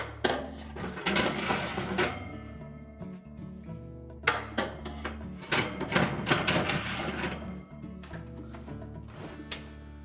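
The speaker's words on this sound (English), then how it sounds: "So we'll just set the racks back in place." Metal Frigidaire oven racks are slid and set back into place inside the oven, making a series of close metallic clanks, scrapes and rattles spread over several seconds.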